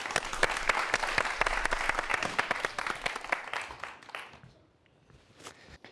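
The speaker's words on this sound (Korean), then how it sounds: "예, 박수로 한번 청해 보도록 하겠습니다." An audience applauds to welcome a lecturer onto a stage: dense, loud clapping that thins out and fades to near silence, then a few scattered claps.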